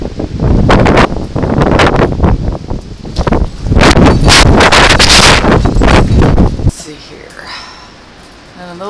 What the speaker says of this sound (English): see if we can listen to the sounds of the wind